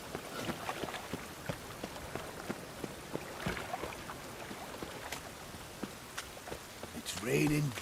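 Steady downpour of heavy rain in The Witcher 3, a soft continuous patter with scattered drop hits and footsteps, ending with a brief spoken line.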